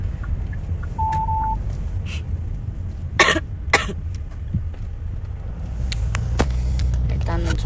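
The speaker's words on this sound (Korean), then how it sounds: "제가 조금 계속 기침을 하더라도 이해해주세요" A couple of sharp coughs close by inside a moving car, repeated in quick succession over a steady low engine rumble, with a brief electronic tone earlier.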